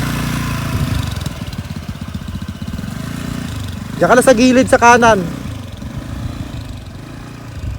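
A motorcycle engine idles and putters close by on a road in Siargao, revving briefly louder partway through while a person speaks over it.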